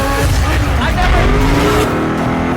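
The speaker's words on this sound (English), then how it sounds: "The reason this car is one of the fastest on the planet is because of its twin turbocharged V8 engine" Supercar with a twin turbocharged V8 engine accelerating hard, a loud continuous engine roar filling the whole span with rising harmonic tones, while people talk over it.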